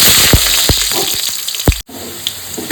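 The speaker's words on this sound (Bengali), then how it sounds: "আবার একটু সর্ষের তেল দিয়েছি। এবার আলুগুলো একটু ভেজে নেবো।" Potatoes fry in hot mustard oil in a pan, a loud, steady sizzle with scattered sharp pops and clicks and a short break near the end.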